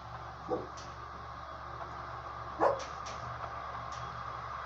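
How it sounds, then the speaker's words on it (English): Household dogs barking in the background, a couple of short, faint barks and yips spaced a few seconds apart over a low, steady room hum. "Sorry about my dogs,"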